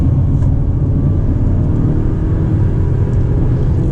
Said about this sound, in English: Now the 4-cylinder turbo sounds a little coarse to me